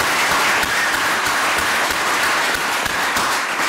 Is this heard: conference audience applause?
yes